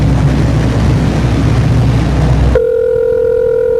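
A phone line rings out during a call: a loud wash of broadband noise, then a steady, clean ringback tone takes over for the last second or so.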